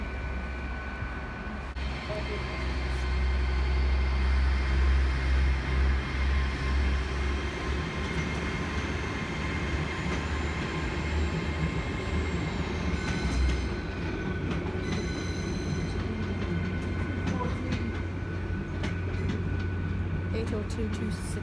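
A British Rail Class 802 bi-mode train hums and rumbles at York station in steady engine drone with platform noise and passing rail clatter, while people talk nearby.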